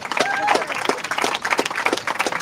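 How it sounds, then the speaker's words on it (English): Spectators greet a finishing ocean rower at the end of an Atlantic crossing race with a burst of clapping and cheers, steady mid-distance applause with voices mixed in. "a big applause"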